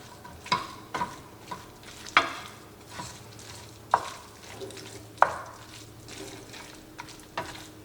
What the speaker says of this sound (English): the cream cheese is soft, so we can mix this in